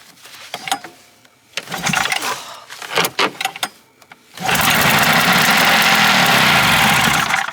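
Cheap three-cylinder snowmobile being cranked with clattering pulls and rattles, then the engine catches and runs with a steady buzzing idle, close and loud, no voices.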